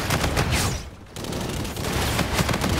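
Dense bursts of video game gunfire from an Infinite Warfare multiplayer match, loud and continuous with a brief lull near the middle before the shooting resumes.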